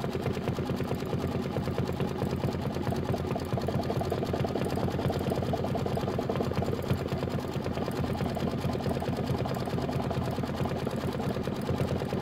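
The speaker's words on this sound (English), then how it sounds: "And this is going to be 5 minutes of stitching." Embroidery machine stitching a quilted nativity bench pillow block, a steady, rapid mechanical needle chatter running continuously at an even pace, close and fairly quiet, with no voices.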